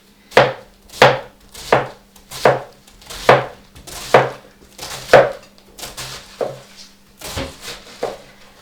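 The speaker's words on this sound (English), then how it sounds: "so that we don't have to chop so much, I sort of cut it as fine as I can get it" White cabbage chopped as finely as possible for crock-fermented sauerkraut, about a dozen loud, close, evenly spaced knife strikes in a steady rhythm, slowing and softening toward the end, with no voices.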